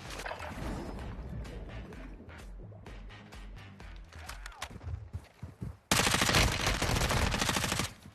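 Rapid bursts of video game gunfire crackle in fast, uneven volleys, pausing briefly before a louder, dense sustained burst near the end.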